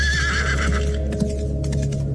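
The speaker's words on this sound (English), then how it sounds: "I heard it again, the sound of the click-clacks of the hooves" A horse whinnies loudly, then several hooves clip-clop in uneven steps, fairly close and alone, with no voices.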